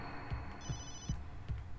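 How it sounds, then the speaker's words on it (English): A telephone rings in the survival horror game Obscure, a soft electronic ring tone repeating in short bursts over low, throbbing background ambience, with no talking. "I can hear a phone."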